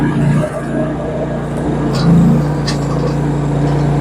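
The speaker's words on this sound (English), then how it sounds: "So there's an idle" A GroundHog KH23G mini excavator idles with a steady low diesel rumble and a slight swell in the middle, loud and close throughout.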